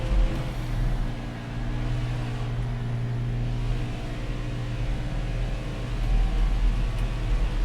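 Race truck engine at partial throttle in the NASCAR Heat 5 video game, a steady droning hum that holds at a fairly even level with slight swells near the end, with no talk.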